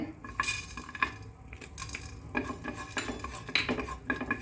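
Coriander seeds and urad dal dry-roasting in a pan over low heat, heard as repeated metallic scraping and clinking of a spoon against the pan in irregular bursts, close and fairly clear.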